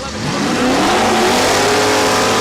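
A drag racing car at Saskatchewan International Raceway launches down the quarter mile, its engine note climbing quickly into a loud, close, rising roar that holds to the end.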